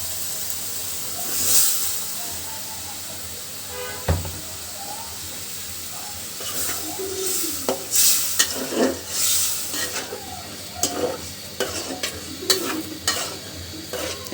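Fish tipped into a well-cooked spiced masala in a pan for a village-style big-fish bhuna, giving a steady frying sizzle with scattered stirring clatter and short bursts of hiss, close by and without talk.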